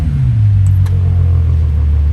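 A 2011 Bentley Continental GTC Speed with a 6.0-litre twin-turbo W12 idles loud and close just after a cold start, a deep steady rumble whose low drone drops slightly in pitch as it settles.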